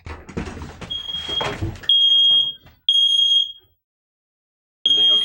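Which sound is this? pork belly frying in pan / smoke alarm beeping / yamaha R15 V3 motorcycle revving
smoke alarm beeping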